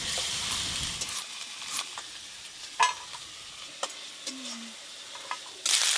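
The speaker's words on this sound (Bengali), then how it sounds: "আদা রসুন পেঁয়াজের কাঁচা গন্ধ যতক্ষণ না যায় ততক্ষণ এইভাবে নাড়তে থাকবো।" Onion, ginger and garlic paste sizzles in a pan while a spoon stirs it in repeated scraping strokes. The sizzle is close and fairly loud, with a few sharper clatters and a louder burst at the end.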